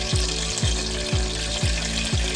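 Cumin, garlic and green chilli sizzle steadily in hot oil, loud and close, while a regular, rhythmic swishing stir repeats about every half second.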